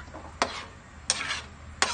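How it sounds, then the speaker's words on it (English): Carbonara sauce stirred in a pan, three distinct scraping strokes spaced about two-thirds of a second apart over a faint low hum, close by with no talking. "let's mix it and stir until it will become"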